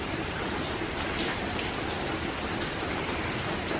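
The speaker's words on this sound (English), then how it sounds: "The rain's coming down." Steady, dense rain pours down in Louisiana during Hurricane Delta, a constant close hiss of drops hitting surfaces with no pauses.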